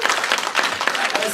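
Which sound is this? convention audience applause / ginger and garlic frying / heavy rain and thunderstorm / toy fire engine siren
convention audience applause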